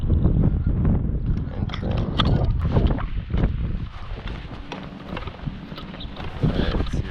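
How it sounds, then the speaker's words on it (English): Wind gusting across an Iowa pond, a heavy low roar buffeting the microphone in a continuous rumbling wash that swells and eases slightly, with no voices over it. "I will say Iowa wind does not help."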